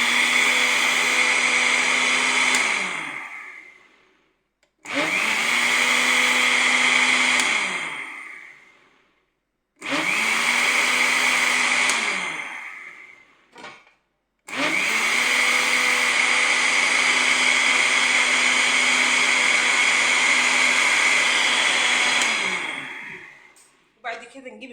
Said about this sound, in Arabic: حطينا كيس الفانيليا اهوت وهنضربه في الخلاط